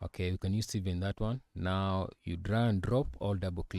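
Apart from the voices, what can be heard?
No everyday noise stands out behind the speech.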